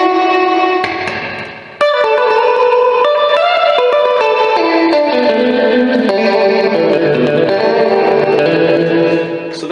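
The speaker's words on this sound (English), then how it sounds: "So that's the spring reverb." Electric guitar played through the spring reverb of an Orange Crush guitar amp: sustained chords and notes ringing with a splashy, washy reverb tail, loud and continuous with a brief dip before the next strum.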